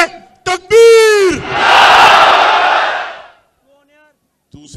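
A large crowd at a political rally in Islamabad roars a religious slogan in unison after a leader's shouted call, a loud, swelling collective cry lasting about two seconds before fading to quiet.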